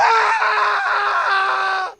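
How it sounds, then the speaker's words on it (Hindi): A man screams in pain in a horror story sound effect, one loud, sustained, strained cry that holds steady for about two seconds and then cuts off abruptly. "राहुल दर्द से चीख उठता है"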